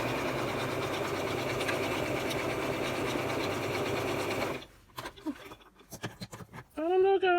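A sewing machine stitches through a thick crochet bag, running steadily and loudly for several seconds before stopping, followed by scattered handling noises and a voice.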